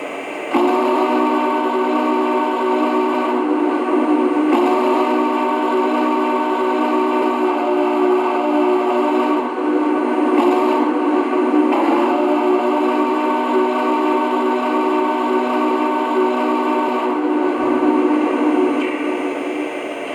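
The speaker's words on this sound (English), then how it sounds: "Here's the whistle with the whistle steam smoke effect." A sustained, loud multi-tone steam whistle from a Lionel Rio Grande Challenger 3800 model train blows almost continuously, with brief breaks between long blasts.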